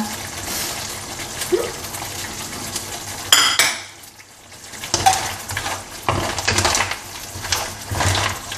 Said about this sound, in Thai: กำลังเดือดได้ที่แล้วค่ะ ขอใส่เลยนะ